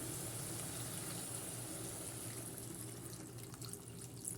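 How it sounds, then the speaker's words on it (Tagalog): Water pours steadily into a cooking pot of chicken feet for adobo, a continuous splashing hiss that thins toward the end, close and fairly quiet, with no talking. "Ilagay na tayo ng tubig para lumambot lalo yung ating paa ng manok."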